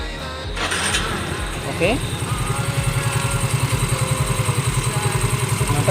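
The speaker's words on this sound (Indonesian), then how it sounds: "Kalau sudah bersih semua baru kita coba ya, kita starter." A Yamaha Mio Soul 125 FI scooter engine cranks and catches, then settles into a steady, rhythmic idle close by, with a short spoken word over the start.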